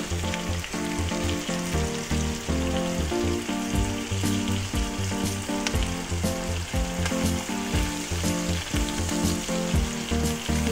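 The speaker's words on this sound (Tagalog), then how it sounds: "Paglualuin na po natin yung bawang at saka sibuyas hanggang sa lumabas yung aroma at maging malambot yung sibuyas." Garlic and onion sautéing with pork belly in hot oil, a loud, continuous crackling sizzle with busy spatters throughout.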